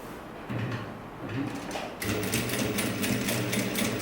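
A domestic sewing machine stitches binding onto a sleeveless top, its motor starting in short bursts and then running steadily, close and fairly loud, with no voices.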